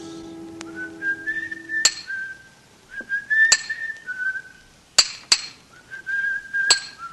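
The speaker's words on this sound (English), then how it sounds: "From the yard itself came a cheery whistle" Cheery tune whistled by a man in a stonemason's yard, bright melodic phrases broken by sharp ringing hammer blows of steel on stone, close and clear with nothing else behind.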